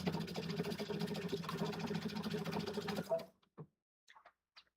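A sewing machine runs a steady, rapid whir while stitching a zipper seam, close and continuous for about three seconds, then stops abruptly, leaving a few faint clicks and rustles.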